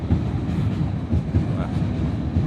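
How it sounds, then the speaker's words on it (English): A train rolls past on a rail siding leading to the BMW Mini plant, a steady, close, low rumble with no breaks across the stretch. "It's got a train coming past at the moment down the siding."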